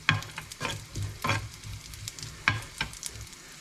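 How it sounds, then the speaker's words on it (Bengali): Raisins fry in hot oil or ghee, sizzling steadily while a spoon stirs and scrapes the pan in quick, repeated strokes at close range. "রেজেনটা ফ্রাই করে দিব আমি সুন্দর ফ্লেভার বের হবে"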